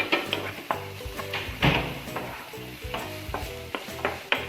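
Onion with crushed ginger and garlic sautés in hot oil, a crackling sizzle broken by repeated clattering stirs and scrapes of a spoon against the pan, close and fairly lively.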